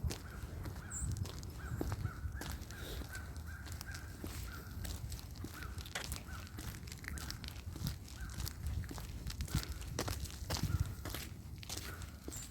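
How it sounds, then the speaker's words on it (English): Crows caw repeatedly at a moderate distance along a lake trail in Northern Virginia, over steady crunching footsteps of a hiker walking the path. "Birds."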